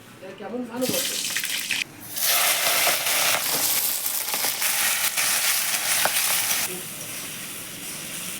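Cumin, dried chilli, cardamom, cinnamon and cloves hit hot oil over a clay stove, bursting into a loud, hissing sizzle that holds for several seconds before dropping away.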